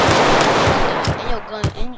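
Rapid automatic gunfire from a video game gang shootout, a loud dense burst followed by a few separate shots, with a voice speaking briefly near the end.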